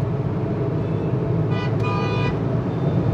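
Car horns honking in busy city traffic on the road toward Pune, a couple of short toots over the steady hum of engines and road noise, heard from inside a moving car.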